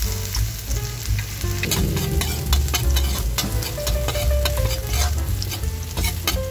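Garlic fries in oil in a wok with a loud, dense, continuous sizzle and crackle throughout, close up, with no talking.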